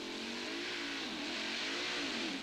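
Blue Magic pulling tractor, powered by Dodge truck engines, making a full pull at a 1997 tractor pulling event in Sottrum, its engines roaring loud and sustained with a steady, slightly wavering pitch throughout.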